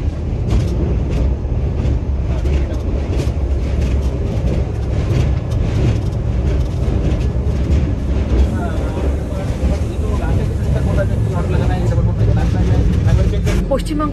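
A Vande Bharat express runs from Howrah towards Dhanbad, crossing from West Bengal into Jharkhand near the Barakar river. A loud, steady rolling rumble with wind and rattle fills the whole stretch without a break.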